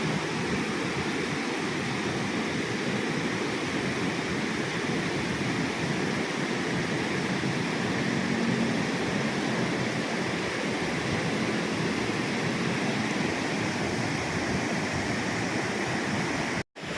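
Reddish water flows down from the mountain at a temple, Wat Khiri Khongkha Wanaram in Chaiyaphum, Thailand. It makes a steady, close, rushing sound throughout, with no voices.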